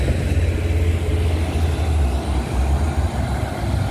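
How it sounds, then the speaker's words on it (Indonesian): Heavy trucks rolling past on a road, a steady loud low engine rumble and roar filling the whole stretch with no letup, close by and continuous without voices. "oh di bawah ini ada truk-truk berat"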